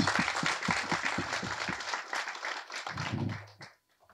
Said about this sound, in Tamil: நல்ல ஒரு கைத்தட்டி பாராட்டு